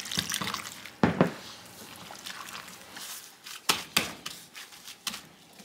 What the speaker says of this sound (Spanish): Y le seguimos echando agua.